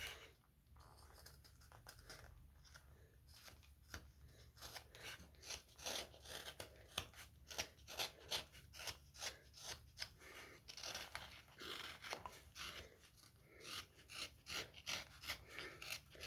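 A knife carving a wooden elf figure, shaving the rounded body and back cut: a steady run of close, scratchy strokes and small scrapes, fairly quiet, with no talking.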